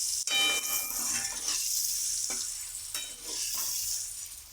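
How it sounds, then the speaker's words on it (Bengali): Eggs frying in a pan until browned, a close, bright continuous sizzle with occasional clinks and scrapes of a utensil against the pan. "এবার আমি ডিমগুলো লাল লাল করে ভেজে নেব।"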